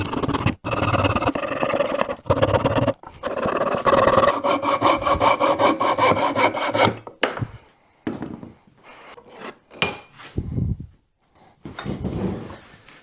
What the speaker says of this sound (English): This is an Eclipse coping saw